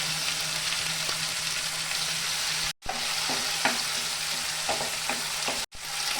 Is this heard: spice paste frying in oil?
yes